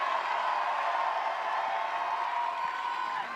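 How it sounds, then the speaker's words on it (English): Sustained crowd noise from spectators at a lead climbing World Cup semi-final in Villars, a steady broad wash of cheering and shouting that holds loud throughout without a break. "Big support from the crowd"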